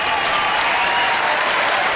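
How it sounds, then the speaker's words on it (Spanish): Loud, dense applause from a beach crowd at Playa Grande in San Bernardo, cheering game winners; continuous clapping throughout with no talk. "Fuerte el aplauso."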